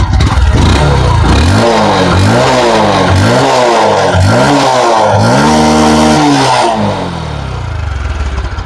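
A 2022-model Bajaj Discover 125 (125 cc) motorcycle engine revs repeatedly up and down nearby, loud rising and falling bursts over a steady idle, easing off at the end.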